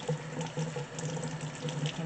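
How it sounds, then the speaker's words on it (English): A breadfruit is washed under a running kitchen tap, a steady close stream of water broken up by splashing as the fruit is turned in the flow. "I just wanna wash it to get whatever dirt is on the outside off."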